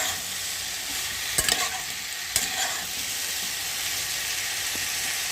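Tomatoes and ground spices, including turmeric, frying in a pan while being stirred, a constant bright sizzle and hiss broken by a couple of sharp scraping clicks, close and with no talk.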